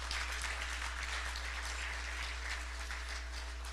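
Applause at a chamber of commerce gathering, soft and distant clapping from an audience spread over a low steady hum, fairly faint throughout.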